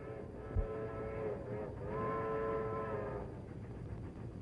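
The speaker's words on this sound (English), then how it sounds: "That sounds like the train from Chicago." A train from Chicago rumbles past in a 1946 film, with a long, wavering horn-like whistle rising and falling over a steady low roar.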